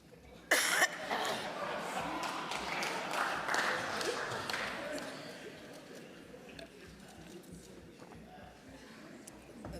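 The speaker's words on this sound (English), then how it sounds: "that cough comes at a strategic moment." A sudden sharp cough breaks out near the start of a parliamentary briefing on a no-confidence vote procedure, followed by scattered murmurs and stirring of a crowd in a large room.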